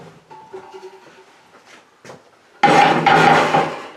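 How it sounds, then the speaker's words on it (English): A brew pot for home-brewing rye beer is handled: soft knocks and rustles at first, then a loud, close burst of metallic clanking and scraping that fades slowly. "So let me get my brew pot."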